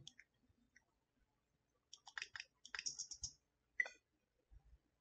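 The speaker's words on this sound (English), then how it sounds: "I'm gonna pop in this SD card and see if it brings up the need to be formatted." An SD card being pushed into a Nintendo Switch console gives a few faint, crisp plastic clicks and small scrapes in quick clusters, separated by near silence.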